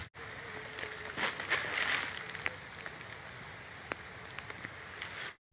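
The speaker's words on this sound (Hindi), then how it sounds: "तो बारिश हो रही है" Steady light rain patters on a wet road nearby, a soft continuous hiss broken by a few sharper drips and taps.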